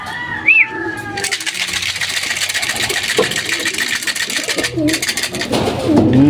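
Racing pigeons coo and flutter in a loft after a club training toss, with a steady mechanical hum running underneath and brief cooing calls close by.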